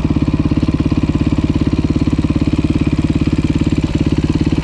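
A Beta motorcycle engine idles with a steady, rapid mechanical pulse, loud and close, running alone without any voices for the whole stretch.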